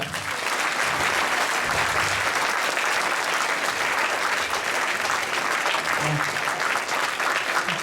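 Applause from an audience of about 250 welcoming two performers on stage, a steady, loud wall of clapping that holds evenly throughout with faint crowd murmur beneath.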